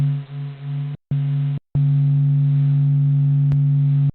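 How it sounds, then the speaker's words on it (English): A sonified recording of the sun: a deep, resonant humming drone cut by two brief silences, then holding steady and loud to the end; no speech. "we have the original recording of the sun here."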